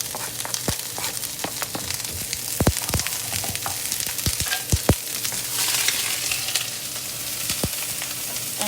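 Hot oil sizzles and crackles in a pan on the stove, a steady frying hiss broken by sharp pops and spits, heard up close with no talking.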